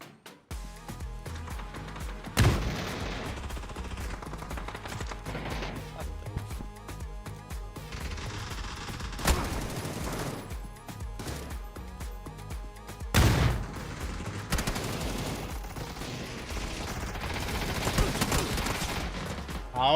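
PUBG gunfire on PC cracks out in scattered sharp shots and bursts over a constant background of game noise, with a few loud reports standing out.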